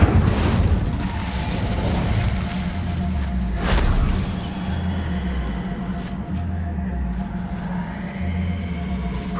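A fire spell cast in the Hogwarts Legacy video game, a loud booming whoosh over a steady low rumble of game ambience, with a second surge of flame-like noise partway through.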